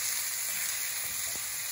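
Garlic sautés in a hot pan for frizzled saltfish, giving a brief, continuous and even sizzling hiss at close range with no voices.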